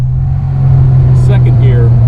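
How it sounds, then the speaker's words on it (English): A 1959 Austin Healey 100-6 engine drones loudly from inside the car as it downshifts into third gear, the low steady engine note rising slightly partway through, with someone speaking over it. "Downshift in the third gear."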